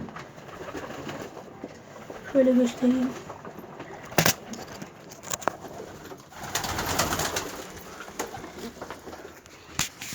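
A male pigeon gives a short burst of low, throaty cooing up close, followed by someone speaking, some handling noises and rustling.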